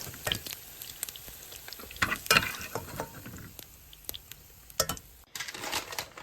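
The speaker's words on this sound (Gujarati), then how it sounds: "બસ અહીંયા પનીર સેલો ફ્રાય થઈ ગયા છે" Paneer shallow-fries in a pan with a steady soft crackling sizzle, scattered sharp pops and occasional stirring clatter, close by and with no voices.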